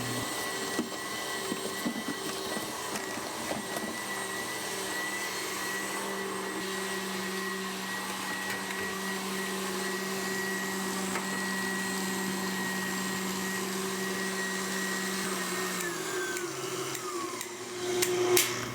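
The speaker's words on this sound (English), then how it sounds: "While the egg whites are beating up, I'm just going to slowly add the dry ingredients." An electric mixer beats egg whites with a steady, even motor whine that holds constant for most of the stretch, with faint clinks near the end and no talk.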